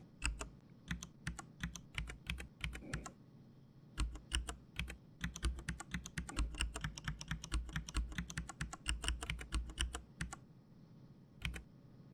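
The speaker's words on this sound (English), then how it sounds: "Touch the keyboard, type a description." Rapid, irregular clicking taps of typing on a touchscreen keyboard while entering a description in a scanner app, in bursts with a few short pauses, close and clear with no speech.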